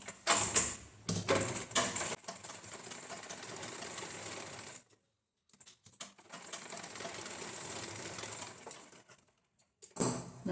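A sewing machine stitching the shoulder seam of a lined blouse, running in steady mechanical bursts, close and clear, with a short pause midway and a few brief stops and restarts.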